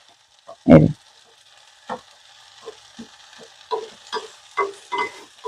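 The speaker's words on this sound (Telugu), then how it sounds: "నేనైతే మధ్య మధ్యలో కలుపుతూ ఉన్నాను కలపకుండా మాడిపోతుంది కాబట్టి కలుపుతూ ఉన్నాను" Tomato and veldt grape chutney fries in a pan as a spoon stirs it now and then. A loud scrape comes first, followed by a series of softer, close stirring strokes over a low sizzle.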